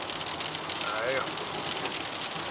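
Rain falls steadily while driving along a road, a continuous broadband patter and hiss that stays moderately loud throughout, with a person speaking briefly over it.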